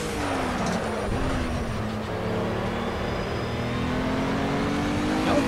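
A Cadillac ATS-V.R GT3 race car in the Project CARS racing game at Road America gives a steady engine drone with a slowly shifting pitch, growing gradually louder, with no talk.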